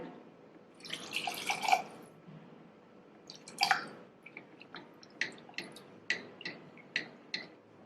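About a quarter cup of water splashes and drips into a cooking pot of lentil dish, a quiet pour followed by a series of small, evenly spaced drops.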